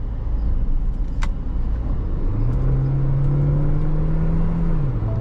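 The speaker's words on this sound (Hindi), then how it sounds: "ची ची की तरह ना आवाज आती है टर्बो की।" A Tata Sierra Hyperion cruises along a road with steady engine and tyre rumble, while a faint turbo whistle rises and holds as a thin tone for a few seconds before dropping away.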